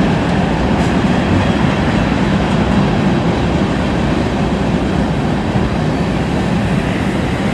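A Norfolk Southern freight train, the NS E29, crosses a bridge with a loud, steady rail rumble and wheel roar that holds at constant strength for the whole stretch, without a break.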